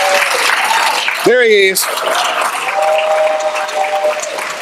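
A crowd at a hospital ribbon-cutting ceremony claps continuously while someone briefly speaks over it and a short vocal whoop cuts through the steady applause.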